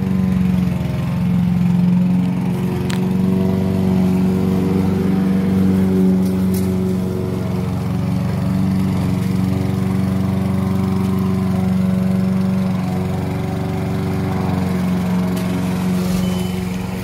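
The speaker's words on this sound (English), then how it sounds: "And now we'll show that it starts the car as well." A 2008 Mercedes-Benz E350 engine runs at a steady, low idle, a continuous hum with a strong low drone heard close by, with faint clicks and no voices.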